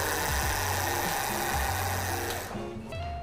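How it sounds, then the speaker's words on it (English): The electric hub motor of a Paselec PX3 folding e-bike spins up under throttle. It gives a loud, close, steady whine with rapid stepping pitch changes, then drops off near the end. "I can spin the motor"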